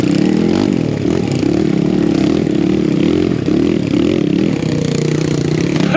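A BBR KLX170RF dirt bike ridden through woods, its engine droning loud and steady throughout with slight rises in revs and faint scraping and clattering over rough ground.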